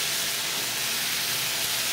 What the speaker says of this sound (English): I love it when the vegetables are simmering and you can hear the meat crackle and pop